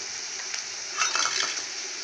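Onions fry in a pan for a papad and potato curry, giving a thin, steady hiss of oil, with a brief flurry of light metallic clinks and stirring midway.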